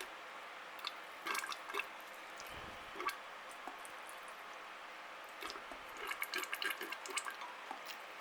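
Water trickles and drips quietly onto an orchid plant inside a terrarium, with soft wet squishing and splashing in scattered bursts, faint and close with no talk over it.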